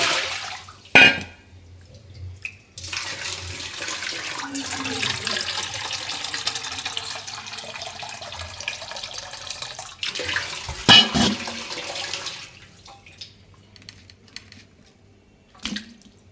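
Tap water runs steadily into a kitchen sink while food is washed under the stream, with brief clunks and splashes at the start and finish. The flow is close and fairly loud, and no one speaks.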